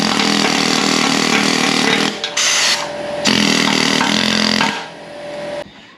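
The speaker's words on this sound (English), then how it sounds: "I'm going to come in and Scotch-Brite this and we'll tie it all in" Scotch-Brite abrasive scouring the rusty frame of a 1953 GMC Hydra-Matic truck gives a loud, harsh, steady grinding roar up close, easing off briefly twice before trailing away near the end.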